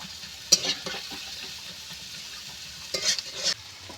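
Chana masala spices stirred and fried in a pan over a clay stove, with a soft continuous sizzle broken by a few sharp scraping strokes of the spoon.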